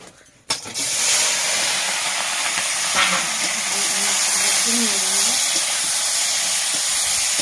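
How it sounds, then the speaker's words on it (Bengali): Salt-and-turmeric-coated mourala fish dropped into hot oil in a wok, a sudden loud burst of sizzling after a quiet start, then a steady intense hiss and crackle with faint voices underneath. "নুন হলুদ মেখে রাখা মাছগুলো এভাবে ভেজে দেবো"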